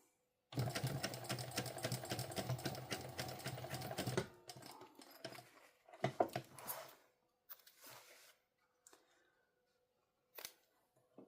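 A sewing machine runs a long continuous top stitch for about four seconds, then breaks into shorter scattered bursts and clicks as it stops and is handled, with no talking.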